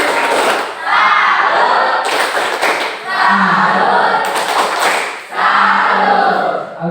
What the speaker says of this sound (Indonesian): Kita berikan tepuk salut dulu.